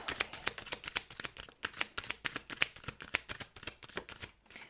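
A deck of tarot cards is shuffled close up, with a steady run of crisp riffling flicks and slaps and a few softer pauses.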